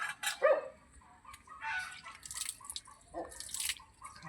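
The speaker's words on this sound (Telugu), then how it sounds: "ఇక్కడ నీళ్ళు పోస్తుంటే మీరు అమ్మవారిని సాఫ్ చేయాలి" Water poured over an idol of the goddess Poleramma during an abhishekam ritual at a village jatara makes irregular splashes and drips, moderately close, with short faint bursts spread through the moment.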